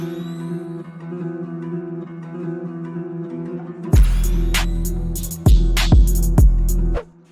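In a sampled A$AP Ferg-style beat, a soft sustained synth pad gives way to a sudden swelling transition whoosh with bright sweeping hits and falling booms, ending abruptly.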